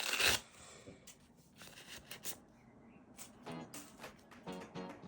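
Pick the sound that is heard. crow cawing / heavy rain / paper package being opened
paper package being opened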